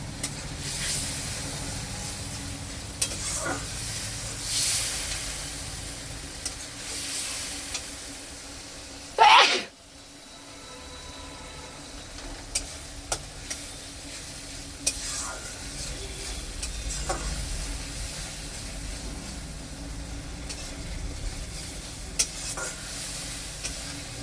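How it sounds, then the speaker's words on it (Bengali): Spice paste sizzling in a pan after a little hot water is added, a soft steady hiss with occasional stirring clicks, close; a sharp burst and brief dip in the sizzle partway through. "মশলাটা যাতে না পুড়ে যায় তার জন্য আমি একটু গরম জল দিয়ে দিয়েছি।"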